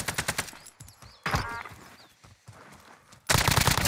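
Video game gunfire: a rapid burst of automatic shots opens the passage, scattered quieter game sounds follow, then another loud, dense volley closes it.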